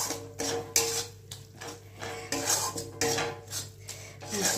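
Spice paste sautéed in a pan for a Bengali mutton curry, a utensil scraping and clanking against the metal in irregular, fairly close strokes over a steady low hum, with no voices.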